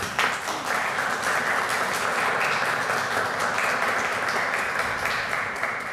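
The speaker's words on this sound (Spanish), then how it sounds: "recibámonos con un fuerte aplauso" An auditorium audience gives warm applause to welcome a researcher before her talk on prebiotic chemistry, the clapping dense and steady throughout, swelling at the start and holding at an even level.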